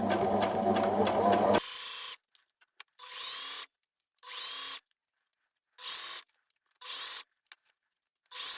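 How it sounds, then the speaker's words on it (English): A sewing machine stitches a sleeve during clothing alterations, first with a long continuous whirring run, then several short close bursts of motor whine separated by pauses. "It helps keep the fabric taut as well whilst you're sewing."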